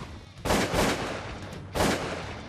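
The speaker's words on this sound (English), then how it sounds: "Nice shot, Steve." Two loud, close shotgun blasts while goose and duck hunting, each a sharp crack trailing into a long echoing boom across open ground.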